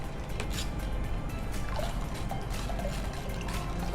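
Water is poured into a sabja lemon drink made with basil seeds and lemon juice. A soft, continuous trickling splash runs through the whole stretch at close range, and no voices are heard.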